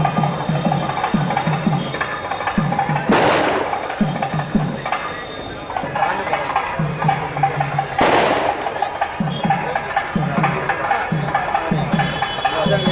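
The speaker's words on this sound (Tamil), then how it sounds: "பெரிய நாயகி அம்மன் கோயிலில் பட்டாசுகள் வெடிச்சுமே வந்து வானவேடிக்கையோடு" Firecrackers and fireworks at a Thaipusam float festival at the Periya Nayagi Amman temple: two loud, sharp bursts ring out several seconds apart over a steady, busy festival background.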